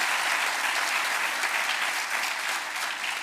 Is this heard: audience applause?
yes